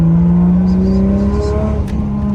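Turbocharged Toyota Supra engine revving with an intercooler pipe popped off, a loud close low drone that climbs in pitch and then eases off.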